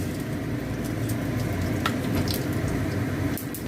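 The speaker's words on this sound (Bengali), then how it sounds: "দিয়ে এই শুকনো লঙ্কাটা ফোড়ন দেবো। আর এই 5 ফোড়ন দিলাম।" Dried red chili and five-spice seeds tempering in hot oil in a pan give a steady, dense sizzle throughout with a few faint crackles, no talking.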